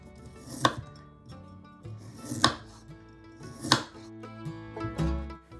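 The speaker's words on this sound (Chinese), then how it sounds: "胡萝卜切片" A knife slices through a carrot on a cutting board, four separate sharp chops spaced about a second apart with quiet gaps between them, close and clear while soft music plays underneath.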